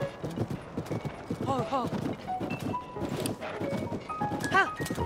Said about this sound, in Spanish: este es el caballo más rápido del juego